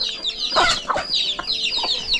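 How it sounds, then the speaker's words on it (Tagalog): Native chickens sick with colds in a hot farmyard, making close, repeated clucks and hoarse calls in quick irregular bursts. "Sinisipon yung mga manok dahil sa sobrang init siguro."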